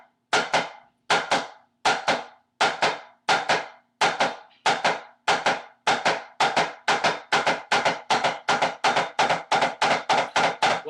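Tenor drums struck alternately on two drums, sharp dry hits close and loud, starting evenly spaced and steadily speeding up into a fast continuous roll.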